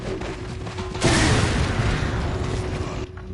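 Grenade explosion in Resident Evil 4 (2005): a single loud, broad boom bursts in partway through and rumbles on for about two seconds before cutting off, with no talking.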